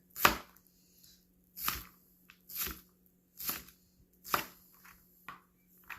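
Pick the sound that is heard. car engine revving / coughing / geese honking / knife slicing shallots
knife slicing shallots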